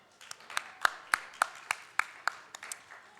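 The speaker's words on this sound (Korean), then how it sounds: "감사하다고 함께 박수 치겠습니다" A church congregation claps together in unison, a dozen or so sharp, evenly spaced claps in a steady rhythm, close and clear in a quiet sanctuary.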